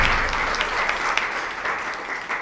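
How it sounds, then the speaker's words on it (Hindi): Audience applause at a Women's Day function fills the room, a dense steady wash of many hands clapping, fairly loud and close, with no talk over it. "एक बार आप सब ताली तो बजा दीजिए।"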